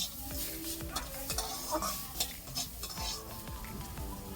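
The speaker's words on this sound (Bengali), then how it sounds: "পেঁয়াজটা উচ্ছের সঙ্গেই ভেজে নেব" Sliced onions fry with bitter gourd in oil in a pan, giving a steady close sizzle broken by repeated scraping and clinking of a spatula stirring against the metal.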